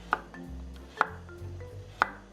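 A knife slicing garlic and ginger into thin slices on a cutting board, three sharp, evenly spaced chops about a second apart, close and clear with a quiet background.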